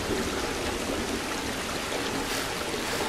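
Rainwater streaming along a street toward a sewer drain in the IT film, a dense, steady hiss of flowing and trickling water, soft and continuous with no voices.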